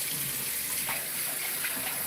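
Water runs from a kitchen tap for cooking rice, a steady, close gushing stream that holds level throughout with no voices.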